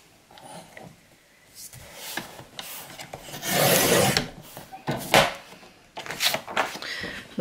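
Paper pages are cut for a baby girl scrapbook mini album, heard as close, irregular rasping and scraping strokes that rise and fall in bursts over several seconds with no speech.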